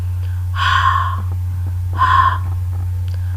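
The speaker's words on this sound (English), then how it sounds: "Open mouth and release breath unvoiced." Two short unvoiced breath releases for the letter H, made with an open mouth, each a soft breathy puff about a second apart, close and clear over a steady low hum with no speech.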